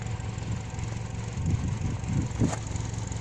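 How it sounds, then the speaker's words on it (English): Idling exhaust of a 2007 Pontiac G5 base SE with the 2.2-liter four-cylinder, a steady low rumble heard up close with a few slightly louder pulses partway through. "An exhaust there."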